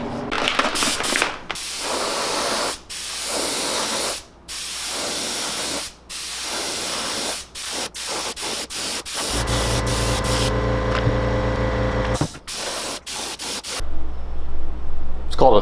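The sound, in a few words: airbrush spraying paint onto a crankbait lure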